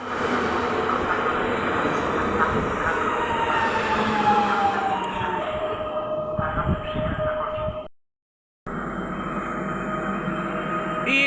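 An EN99 electric multiple-unit train pulls out of the station at Tarnów with a steady rising electric whine and rolling rumble, loud and close, briefly cut off before the motor hum resumes.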